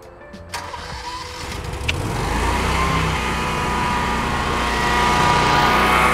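A Westinghouse generator started by remote control cranks briefly, then catches and settles into a loud, steady engine drone that builds slightly and holds.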